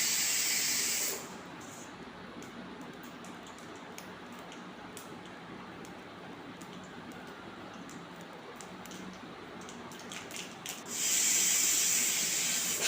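Mustard seeds splutter in hot coconut oil in a pan, giving a continuous sizzling hiss dotted with quick crackling pops, with louder bursts of hiss at the start and end.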